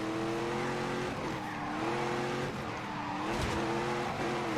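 Steady, loud car engine held at full throttle in The Grand Tour racing video game, its pitch rising and dipping in several gear sweeps, with brief tyre-squeal bursts throughout and no talking.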